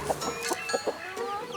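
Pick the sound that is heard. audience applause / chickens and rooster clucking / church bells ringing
chickens and rooster clucking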